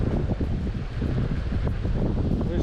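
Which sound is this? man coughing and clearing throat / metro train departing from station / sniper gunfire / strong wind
strong wind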